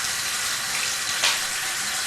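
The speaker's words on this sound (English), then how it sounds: "Go ahead and get your water to your comfortable temperature." Steady broadband splash of tap water running into a sink for hand washing, constant and close, with a brief louder gush near the middle and no speech.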